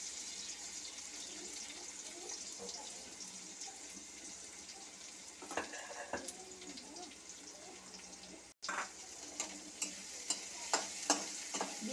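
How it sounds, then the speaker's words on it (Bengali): Chopped onion and garlic fry in a pan with a steady low sizzle, broken by a few soft stirring scrapes and clinks toward the end, with no talking. "দিয়ে এইগুলো আমি একটু ভালো করে লাল লাল করে ভেজে নেব।"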